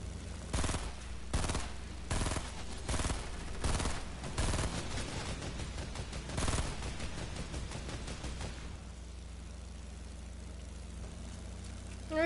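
Machine gun fire in rapid, repeated bursts, loud and close for several seconds, before fading into a low, steady rumble with no voices.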